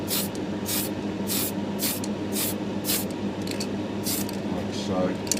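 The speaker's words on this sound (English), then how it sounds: "Nothing heavy, just giving it a light dusting so that the grime and the pre-shading sits" Short bursts of spray hiss apply a light dusting of grime to a DeAgostini Millennium Falcon model, repeating at a steady rhythm over a constant hum, and talk runs faintly underneath.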